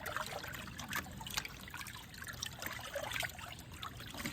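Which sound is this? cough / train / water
water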